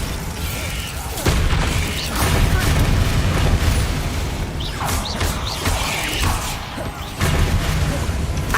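Bombarda blasting spell in Hogwarts Legacy, heard as loud booming bursts over a dense game soundscape, with sharp onsets near 1.2 and 7.2 seconds and a sustained rumbling roar between them.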